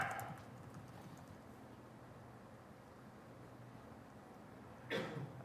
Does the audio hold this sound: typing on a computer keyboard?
yes